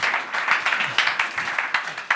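A stage audience claps to welcome Tom and James Exton of London Muscle, a short burst of quick, steady applause, fairly close and even in level.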